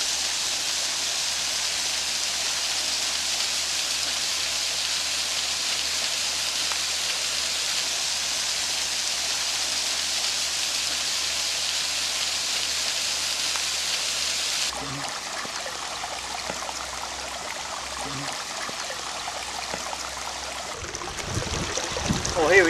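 Rushing water of Maddens Falls, heard from an observation deck, forms a steady broadband roar that continues throughout with no speech; the texture changes near the end as if the position shifts.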